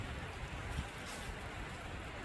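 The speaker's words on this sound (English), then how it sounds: "In the rain, in the biggest storm, at least of 2024" Steady rain falls in a park during a big California storm, a dense, even hiss with faint low rumbling, fairly quiet and without speech.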